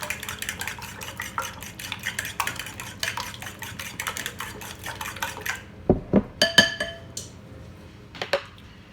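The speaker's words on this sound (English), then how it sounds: "Whisk the eggs up good." Eggs whisked in a bowl for a breakfast pizza, a steady run of quick metallic clicks and scrapes close by, ending with a few sharper clinks against the bowl.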